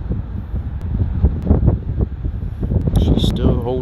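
Strong gusts buffet a microphone outdoors where a small Mavic Mini drone is flown, a loud rumbling roar that swells and fades unevenly, with a brief high whine near the end.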